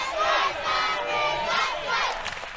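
A Sunbury crowd at a women's basketball grand final cheers and yells in a sustained, energetic roar with rising shouts, loud throughout.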